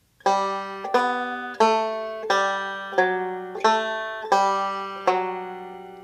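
A banjo plays one measure of Whisky Before Breakfast: seven bright, sharply plucked notes in an even rhythm, each ringing and decaying, close and alone.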